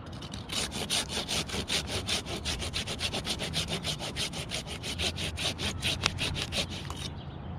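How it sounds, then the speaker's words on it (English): A handsaw cuts through a silver maple branch during a tree removal, with rapid regular back-and-forth rasping strokes, close and steady, stopping just before the end. "I'm gonna send this with a handsaw."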